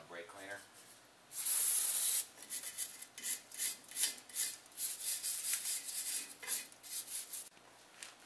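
A short, sharp hiss of AutoZone brake cleaner sprayed onto rusty brake parts of a 1978 GMC C2500 14-bolt rear axle, followed by a run of quick rhythmic scrubbing strokes, close and fairly quiet.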